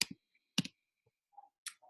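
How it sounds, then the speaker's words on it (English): Sharp, isolated clicks sound in a quiet room, a few separate taps spaced irregularly, consistent with a mouse clicking the X on an online cart. "If you don't want it, you just click off the X like that."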